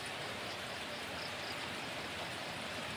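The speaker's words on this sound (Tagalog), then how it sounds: "Mayaman sa ulan." Heavy rain falls steadily over an area near the Agusan River, a dense, even hiss of drops hitting surfaces with no pauses, loud and close throughout.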